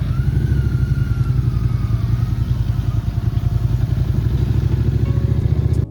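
Honda CBR650R motorcycle engine running close and steady with an even, pulsing mid-pitched drone while the throttle is worked and the clutch feathered.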